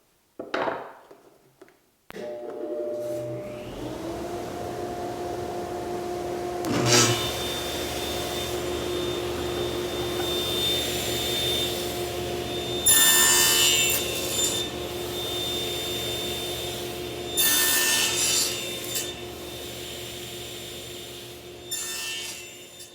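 Steady, sustained machine cutting of wooden finger joints for a changing table, with a constant motor drone and rasping bursts as the blade nibbles between blocks, continuous and close, with no talking.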